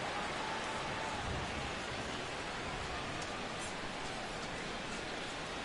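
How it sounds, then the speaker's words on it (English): Simulated rain during a baseball game in MLB The Show 17, a soft, steady hiss of falling drops, faint and even throughout without talk. "as the rain continues to fall here"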